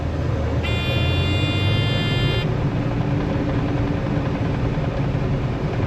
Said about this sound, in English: Let's turn this on. There's the combine.